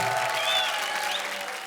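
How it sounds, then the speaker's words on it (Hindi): Studio audience applause on a comedy show, a short even burst of clapping and crowd noise that fills the moment from start to finish. "अरे जोरदार तालियां पार्वती के लिए"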